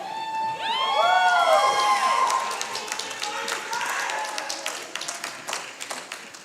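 Cheering and applause from a small early-morning live audience at the Summer Games Done Quick 2022 speedrun event, loud and rising at first, then fading into scattered claps and shouts, with talk mixed in.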